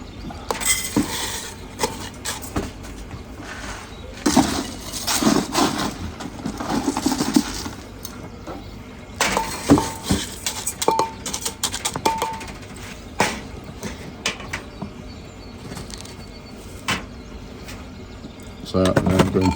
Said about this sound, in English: So I'm just going to add some soil into my pot here.